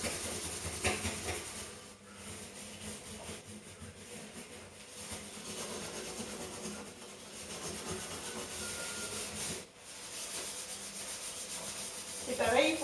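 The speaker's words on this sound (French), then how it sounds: "je peux prendre un tampon abrasif que j'avais préparé sur le côté pour finaliser l'entretien de la cuisinière" An abrasive scouring pad scrubbing the surface of an old cooking stove, a steady close rubbing and scraping that runs almost without pause, dipping briefly twice before resuming.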